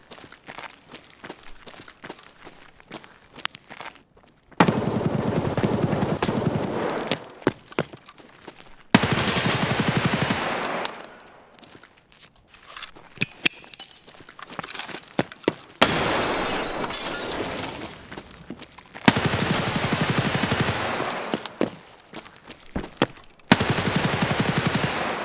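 An RPK-16 machine gun fires in Escape From Tarkov, with long loud bursts of rapid automatic fire separated by quieter gaps of footsteps and movement, and glass shattering among the shots.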